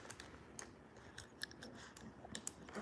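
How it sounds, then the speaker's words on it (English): A one-month-old red Labrador puppy chewing on a phone, close and quiet, with irregular small crunching and clicking bites spread across the moment, no talking. "No chewing on the phone, buddy."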